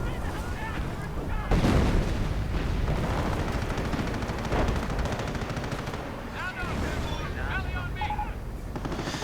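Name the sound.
artillery fire and explosions in a WWII strategy video game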